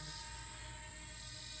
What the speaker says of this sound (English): The drone's up there sort of above the flagpole.